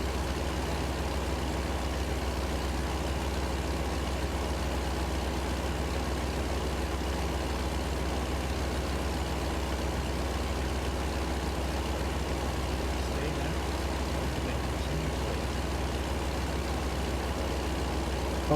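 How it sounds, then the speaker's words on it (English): A truck engine in American Truck Simulator drones continuously at a steady low idle, even and unbroken throughout with no voices. "I can hardly hear him over the engine as well."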